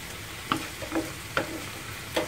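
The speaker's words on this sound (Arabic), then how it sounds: "راني كنشحر هذا مزيان البويرو مع الشامبينيون ديالنا" Leeks and mushrooms sauté in a pan under a soft steady sizzle, with a few sharp scraping stirs of a utensil breaking through at irregular intervals.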